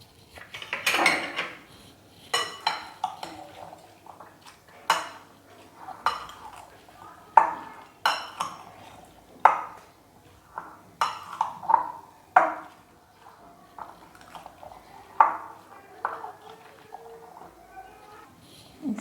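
Aloo chaat ingredients with namkeen and ketchup being mixed in a bowl, a spoon clinking against the dish in irregular bursts of scraping and taps, close and moderately loud, with no one talking.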